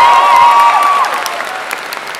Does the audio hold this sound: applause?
yes